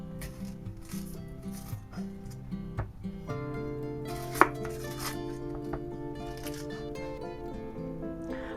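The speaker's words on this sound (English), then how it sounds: "let's go ahead and slice up our onion" A knife slices through an onion on a cutting board at a kitchen counter, giving a run of soft, close chopping and rubbing strokes over steady background music.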